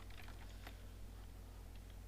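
Quiet, close keystrokes on a computer keyboard, a few light taps clustered early and then sparse clicks over a low steady hum.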